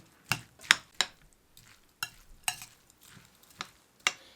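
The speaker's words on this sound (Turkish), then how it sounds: "Şimdi bu harcımı iyice bir karıştırıyorum" A raw stuffed pepper filling mixed with oil is stirred in a bowl: about ten quiet, separate spoon clacks and scrapes spaced unevenly, with near silence between them.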